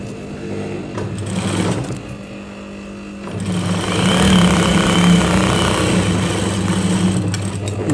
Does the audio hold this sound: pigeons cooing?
no